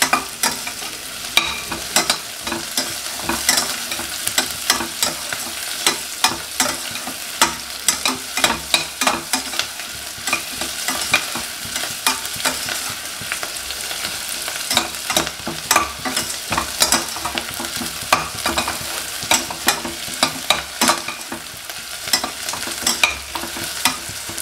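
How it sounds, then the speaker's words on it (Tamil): Onion sautéing in oil for a potato and peas kurma crackles steadily up close while a spoon stirs and scrapes the pan in frequent, irregular strokes for over twenty seconds, with no talking. "ஒரு பெரிய வெங்காயம் கட்டி வச்சுருக்கோம், அதை நல்லா சேர்த்து வதக்கிக்கலாம்."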